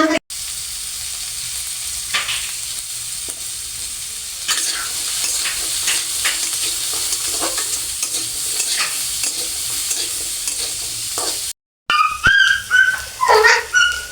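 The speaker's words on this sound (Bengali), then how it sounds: "আমি রান্না করছি মিষ্টি লাউ ভাজি" Sweet gourd (lau) being fried and stirred in a pan, a continuous close sizzle with occasional spatula scrapes, and a dog barking several times near the end.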